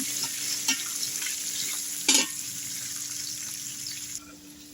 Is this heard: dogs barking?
no